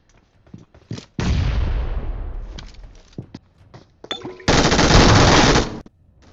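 Heavy machine gun fire from a first-person battle royale game, with short bursts early, a long sustained loud burst, then scattered shots and a second dense close burst.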